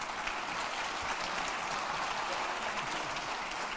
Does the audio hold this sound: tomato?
no